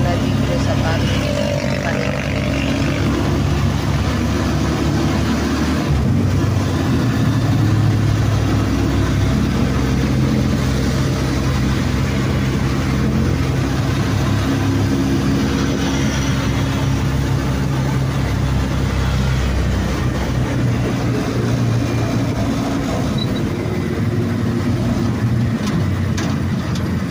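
Steady low rumble of slow road traffic with car and heavier engines idling and creeping past, loud and continuous throughout, with a voice talking over it.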